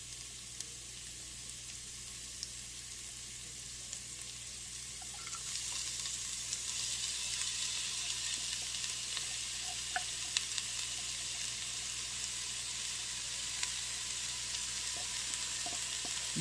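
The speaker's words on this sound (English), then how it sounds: "I'm going to add the celery, onions, and garlic." Celery, onions and garlic sizzle in a soup pot, starting as a quiet hiss that rises to a steady, brighter frying sound partway through, with occasional small crackles and no voices.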